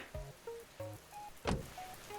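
Rain falls steadily on a surface in a rainy town, a soft continuous patter heard close and faint, beneath scattered tonal blips and a brief louder knock.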